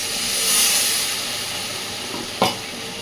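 Spices fry in hot oil in a pot of soybean and red lentil curry, giving a close, steady sizzle. Water is then poured in, causing a brief, sharp burst of hissing. No one speaks.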